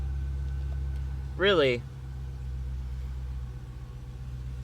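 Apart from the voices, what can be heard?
Dodge Challenger engine running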